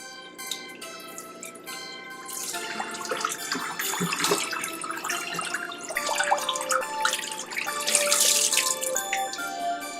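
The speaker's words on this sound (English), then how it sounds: "now I'm going to go ahead and pour the fish out of here into this net" Water with a betta fish splashes and trickles as it is poured from a container into a net, with drips and gurgles rising and falling over several seconds, close by and without talk.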